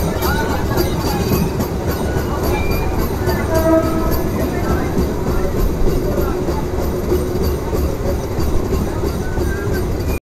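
A MEMU passenger train runs on rails from Malda Town toward Sahibganj, heard from inside as a loud, continuous rumble with rhythmic clickety-clack and brief metallic squeals from the wheels.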